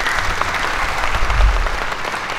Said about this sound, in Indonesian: Tepuk tangan untuk Pak Ketut